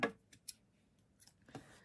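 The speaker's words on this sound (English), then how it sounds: "Then you can cut this yarn tail." Scissors snip a yarn tail during flower crafting, a few sharp short cuts spaced apart, close and fairly quiet.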